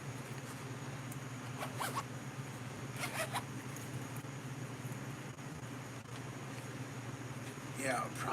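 An EDC pouch zipper is pulled in a few short, faint rasping bursts over a steady low background hum, with a quicker zip at the end.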